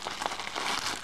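A small plastic packet from AliExpress, holding two 6.35 mm jack plugs, crinkles up close: a quiet, continuous rustling and crackling handled by hand for about a second.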